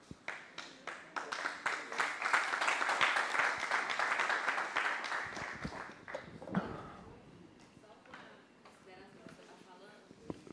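A church congregation applauding, rapid dense clapping that builds, holds strong for several seconds, then thins out and fades, with voices mixed in.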